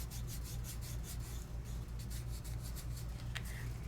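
Fingertip rubbing adhesive into a stamp stencil during a craft project, a soft rhythmic scratchy rasping repeated in short strokes, close and quiet over a low hum.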